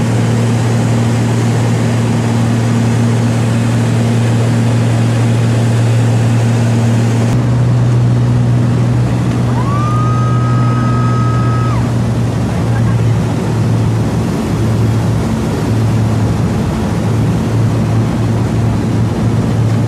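Engine drone of a small passenger plane heard from inside the cabin, a loud steady low hum filling the whole stretch, with a brief rising tonal whine partway through.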